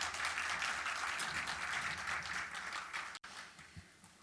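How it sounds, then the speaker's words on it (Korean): Applause from a concert audience honoring guest speakers at a crane and peace music event: sustained, fairly faint clapping that washes evenly, with a brief dropout near the end before a few soft thumps. "다시 한번 큰 박수 부탁드리겠습니다"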